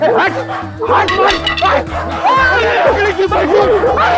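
A dog barks and yips in a crime-drama scene, short barks mixed with loud overlapping speech and a tonal background bed that runs without a break.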